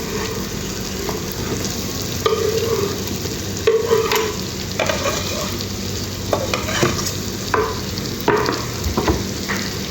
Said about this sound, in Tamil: நம்ம கட் பண்ணி வச்ச முட்டையை இதை போட்டுக்குவோம்.